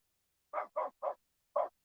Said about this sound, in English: That's that little puppy. He's a Great Pyrenees.